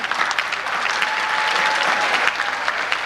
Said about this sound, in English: we'll applaud you